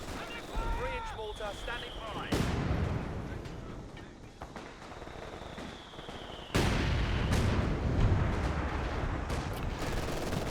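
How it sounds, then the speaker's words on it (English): Base howitzer artillery in a Company of Heroes 2 match fires in heavy booming bursts, two big blasts landing a few seconds apart amid rumbling explosions and battlefield noise, with talk running underneath. "Ready to bombard with the base howitzers."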